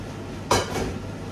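Beans tipped into a pan of hot oil on a home stove land with a single clattering rush and a brief crackle, then settle into a low background hum.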